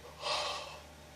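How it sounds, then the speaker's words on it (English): A single close breathy yawn from a man, a drawn-out airy inhale swelling and fading over about a second, with no talk. "Sorry about the yawning."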